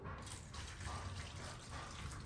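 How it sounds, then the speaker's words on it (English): Water poured from a jug into a seed-starting tray, a steady soft trickle and splash running close and continuous for a couple of seconds. "Take this water jug and I'm gonna put a little bit of water in the tray."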